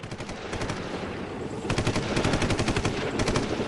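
Rapid machine-gun bursts in WWII combat alongside advancing tanks near a hill, loud and continuous, with a denser, heavier stretch of rattling fire in the second half and no talk.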